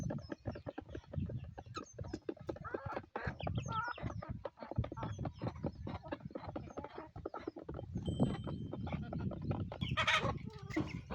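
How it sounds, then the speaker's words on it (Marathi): A brooding hen with chicks clucks repeatedly in a home poultry yard, a busy stream of short clucks and chirps, fairly near and moderately quiet, with other birds faintly in the background. "ही आपली पिल्लांची कोंबडी,"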